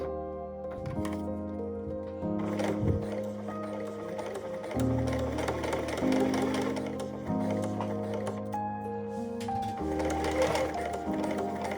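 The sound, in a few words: sewing machine stitching bra clasps and strap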